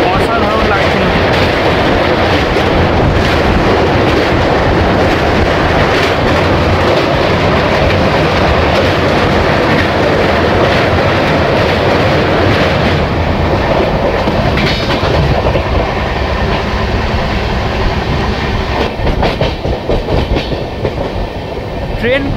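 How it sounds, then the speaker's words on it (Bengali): The Bhubaneswar–Howrah Jan Shatabdi Express running on rails near Cuttack, heard from inside as a loud, steady rumble with a rhythmic clickety-clack of wheels that continues throughout. "ট্রেন কটকের কাছাকাছি এসে গেছে।"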